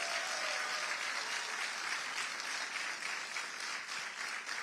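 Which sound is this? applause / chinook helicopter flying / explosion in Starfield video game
applause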